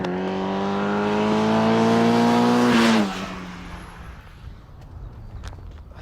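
A Caterham sports car races around a track, its engine droning loudly with a rising, sustained tone for about three seconds as it nears, then cutting off abruptly and fading to distant low rumble.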